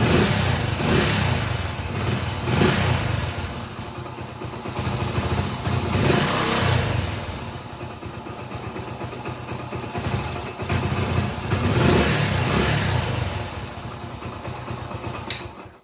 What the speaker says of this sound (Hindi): तो अब बाइक को करते हैं स्टार्ट फिर से इसको